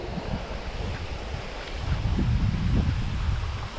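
Wind gusts roar steadily across a trail at Lions Conservatory Park in Fargo, North Dakota, a broad close rushing buffet on the microphone that swells louder in the second half.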